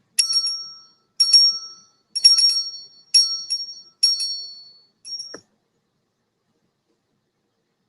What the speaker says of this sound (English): You deserve a bell ring for that one.